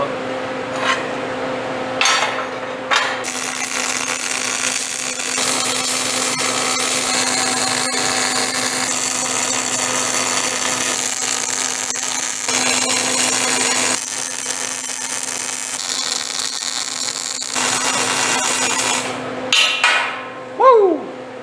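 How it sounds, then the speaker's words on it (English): Welding metal ramp pieces for a homemade trailer, a continuous crackling hiss that runs steadily for long stretches with brief pauses, close and fairly loud, ending with a few clanks. "I'm gonna weld them up."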